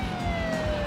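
A police siren wails steadily in Burnout 2: Point of Impact, its tone sliding slowly over a loud rumbling car engine, brief and close.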